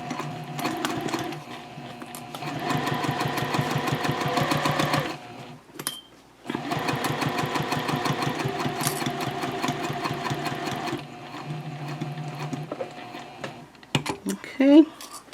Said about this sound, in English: you're only going to sew 1/4 of an inch from the edge